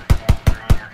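Four quick, evenly spaced gunshots in a video game firefight, each a sharp bassy crack with a short tail, close and loud within a single second.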